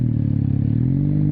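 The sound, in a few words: 1981 Kawasaki KZ440 motorcycle riding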